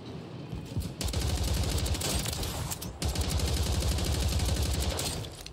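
A video game gun firing in a long, continuous burst of rapid shots. It stays loud and close, with two brief gaps near one and three seconds, and no talk over it.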